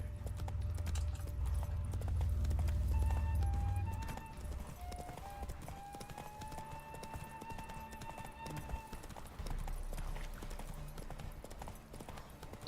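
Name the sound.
horse Roach galloping in The Witcher 3 video game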